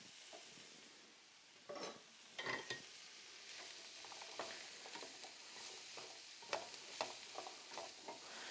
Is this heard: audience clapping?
no